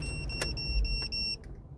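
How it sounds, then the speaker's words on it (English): A running truck with its engine left idling too long sounds a warning alert: a few bright, high-pitched electronic beeps layered over a low engine hum, followed by clicks and a quieter tail. "my truck yells at me if I run it too long"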